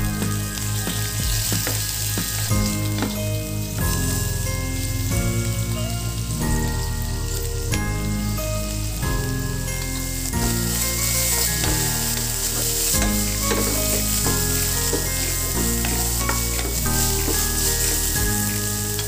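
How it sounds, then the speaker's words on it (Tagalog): Pork liver pan-fries until toasted for pork igado, a steady hissing sizzle running under loud, continuous background music. "I-pan fry natin ito hanggang sa medyo matusta."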